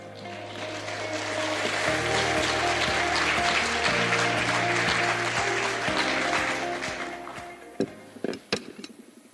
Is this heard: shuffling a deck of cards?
no